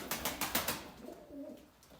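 A quick run of wing flaps is followed by a soft, low pigeon coo close by.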